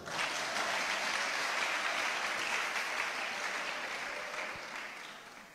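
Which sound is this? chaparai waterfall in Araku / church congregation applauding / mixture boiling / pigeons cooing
church congregation applauding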